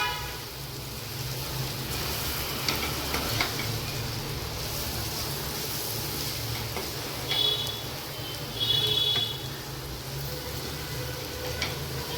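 Leftover chapati noodles stir-fried in a pan over a low flame, giving a faint, steady sizzle with a few brief scraping stirs, no voices.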